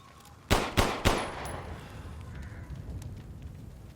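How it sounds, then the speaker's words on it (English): Three sharp gunshots crack close together near a character in a video game, then the sound fades into a quieter ambient game background. "if you shoot near him, or even better, throw explosives at him"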